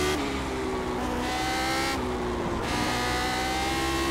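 Lotus 79 race car in iRacing, a loud close engine note that keeps stepping down in pitch through several downshifts at Lime Rock Park, with no one talking.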